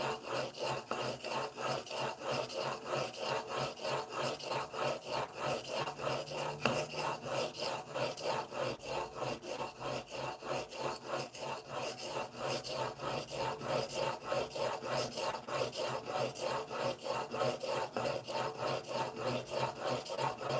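Stanley No. 4 hand plane blade worked back and forth on a 400 grit sharpening stone, a continuous rhythmic rubbing of quick even strokes, close and fairly quiet, with no talking throughout.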